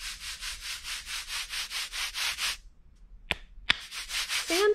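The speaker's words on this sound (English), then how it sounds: "sandpaper." Steady rhythmic rasping of two pieces of sandpaper rubbed together back and forth, about a dozen even strokes, then a pause with two sharp clicks before the scraping resumes.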